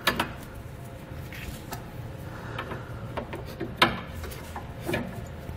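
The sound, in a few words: ratchet strap being cinched tight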